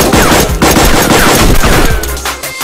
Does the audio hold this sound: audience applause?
no